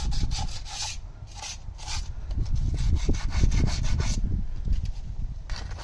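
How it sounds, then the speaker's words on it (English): Sandpaper rubs back and forth over the metal mating surface of a 2019 Jeep Cherokee KL wheel hub in rhythmic, close, moderately loud scraping strokes, with no talking. "I'm just going to take some sandpaper. You can use Scotch-Brite, whatever. Just kind of clean this up some."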